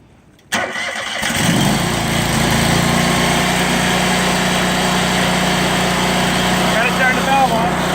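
A pressure washer's small gasoline engine cranks and catches after a brief quiet moment, then settles into a loud, steady, buzzing idle that runs on continuously.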